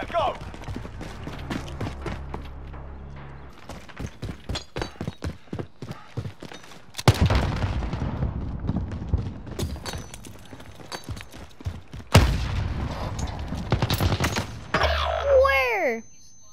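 Bursts of gunfire in a video game gunfight, rapid sharp shots in uneven volleys with heavy blasts and a rising electronic whine near the end, loud and up close.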